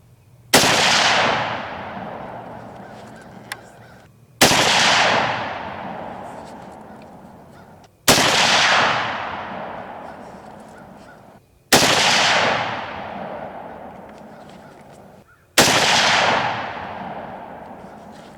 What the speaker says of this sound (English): We got 2 more groups to shoot on this gun.